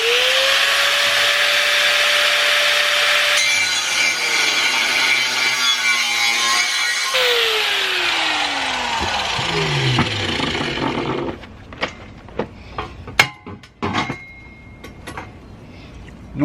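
Spare steel pipe being cut to length with a power tool: a long sustained grinding whine that shifts pitch as the blade bites, falling away near the end into scattered clanks and knocks of handling the metal.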